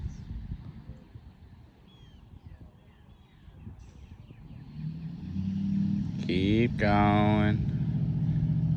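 A Ford F450 truck rolls past with a rising engine rumble that grows louder toward the end, under ongoing talk and a brief whine-like tonal burst near the close.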